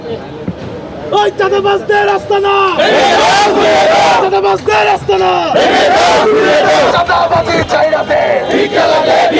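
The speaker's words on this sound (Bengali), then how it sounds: "চাঁদাবাজির বিরুদ্ধে তারা বিভিন্ন ধরনের স্লোগান দিচ্ছেন" Protesters chant slogans against extortion in loud, rhythmic bursts, a crowd of voices shouting in unison with short pauses between repeated calls.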